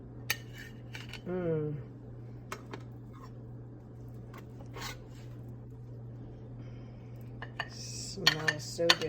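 A metal spatula scrapes and clinks against a baking dish while lifting out shepherd's pie near the edge, with bursts of scraping around the start and end over a steady low hum.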